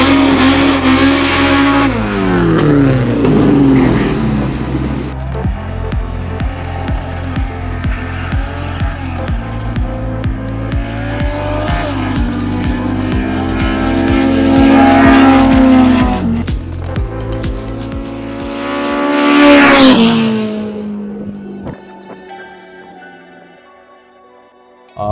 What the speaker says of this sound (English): I drive a 1992 Nissan Sentra with a SR20 Neo VVL engine in.